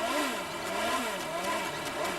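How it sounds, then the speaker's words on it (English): Formula 3000 race car engine revving hard with no gear engaged, a high, wavering snarl that rises and falls continuously, heard from a short distance without any voices. "you hear the engine revving"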